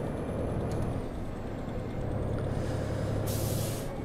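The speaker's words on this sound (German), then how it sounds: "Druckluft abgelassen aus dem Überlassventil" A truck's air brake releases compressed air through a valve in American Truck Simulator, a low engine rumble running throughout with a short sharp hiss of air near the end.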